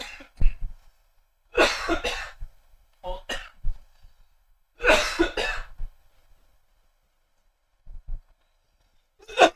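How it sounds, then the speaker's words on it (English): A woman coughs in several harsh bursts after inhaling spit, with pauses between fits and a final short cough near the end, close and fairly loud. "Literally just inhaled some spit, and now I can't stop coughing."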